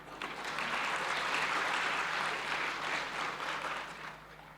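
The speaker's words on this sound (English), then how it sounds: "a big applause for them" Sustained audience applause fills a seminar room at the close of a session on roads and disaster management, steady and dense throughout before tapering slightly at the end.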